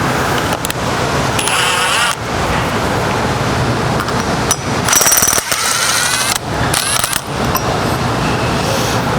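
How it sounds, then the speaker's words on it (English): A ratchet backs out the center bolt holding a pump impeller onto the motor shaft during a mechanical seal replacement, giving loud, close bursts of rapid metallic clicking broken by short pauses. "we're going to take the center bolt out that bolts the impeller onto the motor shaft."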